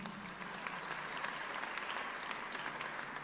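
A church congregation applauding during a sermon, a dense, steady wash of clapping from many hands, moderately distant, with no speech.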